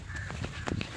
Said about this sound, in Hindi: कौवा हमको देख के डर गया, या कैमरा को देख के डर गया